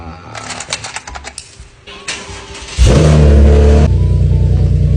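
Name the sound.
sports car engine revving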